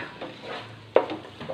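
Chicken gravy being mixed with yogurt in a pan for fried chicken biriyani: soft stirring scrapes and a sharp clink of the utensil against the pan, close by.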